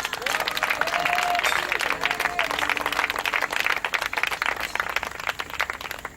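Church congregation clapping and cheering, a dense, sustained wash of applause from many hands with voices rising through it.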